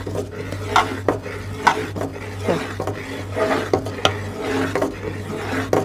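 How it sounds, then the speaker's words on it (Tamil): Athirasam flour being stirred into hot jaggery syrup in a pot, a spoon scraping and knocking against the metal in irregular strokes over a steady low hum, close and fairly loud. "இப்போ நம்ம இதல மாவு போட்டு கிளற போறோம்"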